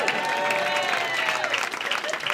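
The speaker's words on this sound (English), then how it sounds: "I sometimes get a round of applause" A comedy club audience bursts into a round of applause, dense and steady clapping throughout with some crowd noise mixed in, fairly loud and close.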